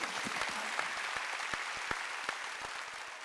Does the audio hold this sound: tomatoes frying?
no